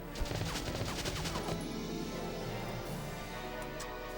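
Gunfire in the video game Valkyria Chronicles: rapid, dense bursts of shots crackle over a steady loud bed of game sound, busiest in the first second and a half, then settling into a continuous rattling roar.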